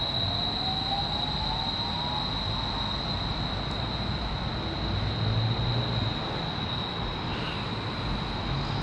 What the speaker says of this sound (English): That's the train I was just on.